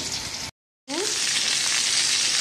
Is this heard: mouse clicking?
no